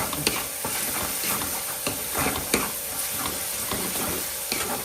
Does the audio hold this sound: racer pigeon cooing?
no